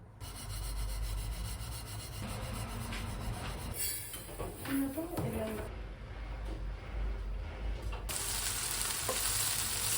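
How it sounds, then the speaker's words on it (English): Garlic fried in sesame oil in a hot pan, with a continuous sizzle under scraping and stirring, plus louder bursts of hiss near the end and a voice partway through. "Heat the pan, use the sesame oil."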